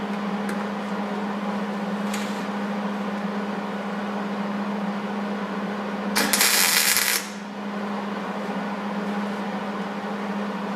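A tack weld on a Ford Super Duty cab corner panel gives one harsh crackling burst lasting about a second, set against a steady shop hum and background noise.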